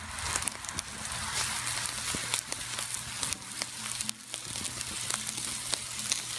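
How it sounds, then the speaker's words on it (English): Steak sizzles directly on hot charcoal, a faint, steady crackling hiss with scattered pops and snaps throughout. "We have some cooking on charcoal."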